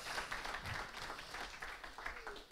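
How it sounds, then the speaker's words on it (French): A conference audience at an event on new energies and ports gives a short burst of applause after a talk, faint and somewhat distant. "Merci beaucoup, on peut l'applaudir."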